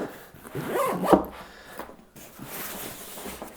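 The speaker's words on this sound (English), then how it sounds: "So let's zip that back up." A zipper on a Peak Design Everyday Backpack Zip 15L is pulled shut in a short raspy run, close and moderately loud, with faint handling rustle and no voices.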